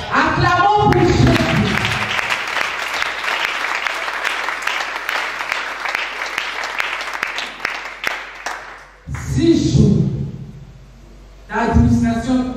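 A church congregation applauds during a worship service, sustained loud clapping lasting about eight seconds, with a voice speaking just before and after it.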